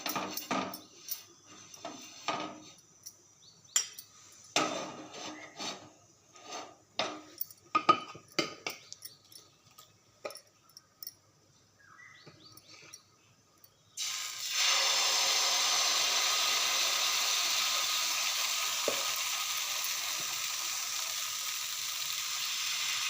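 Oil heats on a tawa for jackfruit dosa, a steady loud sizzling hiss that starts abruptly partway through and continues, preceded by scattered clinks and scraping of utensils.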